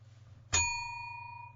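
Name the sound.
bell sound effect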